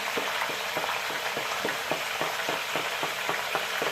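Turmeric powder fries in oil for a chicken korma, giving a close, steady sizzle with regular scraping stir strokes about twice a second and no voices.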